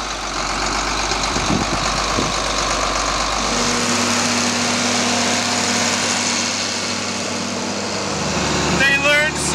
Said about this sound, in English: Here she goes, driving her first tractor by herself.